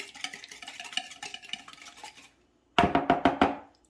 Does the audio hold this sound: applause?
no